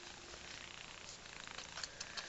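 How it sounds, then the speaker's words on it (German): A pet animal purring close by, a soft, steady, continuous rumbling purr with a few small faint clicks toward the end and no talk. "Aber er schnurrt schon, das ist gut."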